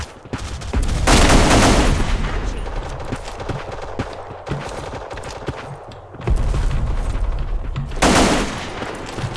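Bursts of rapid gunfire in the video game Black Squad erupt in two loud volleys, crackling automatic shots with quieter stretches between them.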